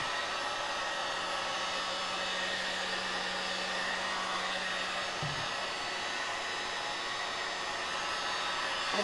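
A blow dryer runs steadily on a resin pour, a constant broadband airy roar holding the whole time, with a low hum that drops out briefly midway.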